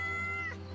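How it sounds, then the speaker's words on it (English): A cat in the video game Yes, Your Grace lets out a single short meow, close and clear, over a quiet low hum. "Cat."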